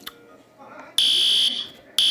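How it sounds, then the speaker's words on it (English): School fire alarm sounding in two loud, steady electronic blasts, each starting abruptly, a long one and then a second starting just before the end, after a quieter stretch of faint background sound. "Now it's time to pull the fire alarm."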